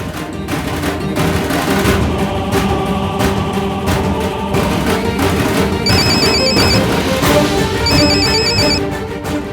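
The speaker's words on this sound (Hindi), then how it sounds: "और अब उसका फोन बजेगा।" A phone rings in a Hindi TV serial scene, its bright repeated electronic ring tone sounding in two bursts over dense dramatic background music.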